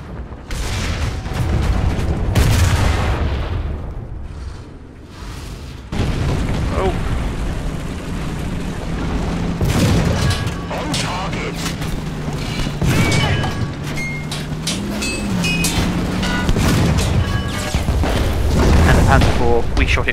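Tank cannon fire in War Thunder, a Matilda tank battle in the desert, with several deep booms and bursts spread across a busy mix of engine rumble and battle noise, loud throughout.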